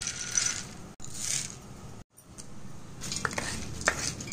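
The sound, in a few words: stirring roasted peanuts, roasted gram and asafoetida in a pan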